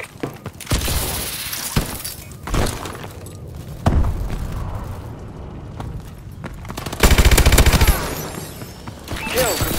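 Gunfire in a first-person shooter video game, several loud sharp shots at irregular intervals with crashing, shattering impacts between them and a dense rapid burst near the end.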